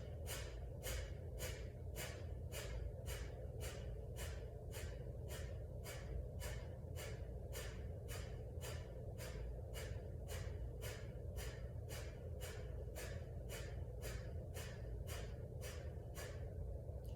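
Rapid, rhythmic breath of fire breathing during a yoga session: a steady train of sharp, forceful nasal exhalations at about two per second, close and even, continuing without talk.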